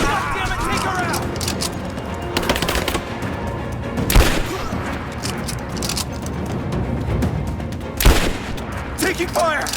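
Video game gunfire from Rise of the Tomb Raider: rapid bursts of automatic shots run throughout, with sharp louder cracks near the four- and eight-second marks, mixed under shouted combat voices.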